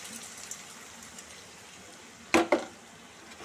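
Uncooked rice grains poured into a hot pan of fried ingredients for a golden rice dish, a brief double rustling clatter that stands out against a quiet sizzle.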